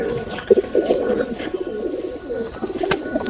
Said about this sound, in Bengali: ভিউয়ার্স দেখেন এটা একটা টেডি কবুতর